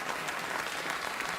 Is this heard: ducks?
no